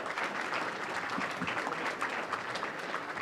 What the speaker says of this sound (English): So how about a nice round of applause?